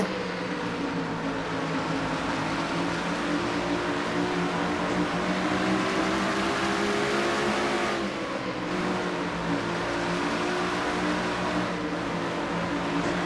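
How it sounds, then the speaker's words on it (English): Stock cars in a racing video game run in a tight pack around the short track at Bristol, Tennessee, during a Busch 500 race. Engines roar in a steady, dense drone throughout, with no talk. "There you get an idea of what it's like to ride in a pack at Bristol, Tennessee here in the middle of some short track racing."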